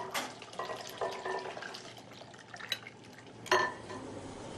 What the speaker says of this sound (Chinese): 把肉蓉放进汤里适当搅拌